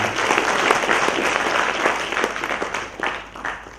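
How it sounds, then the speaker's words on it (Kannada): An audience at a book event at a Gulbarga branch math breaks into applause, a dense, loud burst of many hands clapping that carries on for several seconds before tapering off. "ಈ ಸಂಘಟನೆಯವರಿಗೆ ಒಂದು ಚಪ್ಪಾಳೆ ಮಟ್ಟದ ಮುಖಾಂತರ"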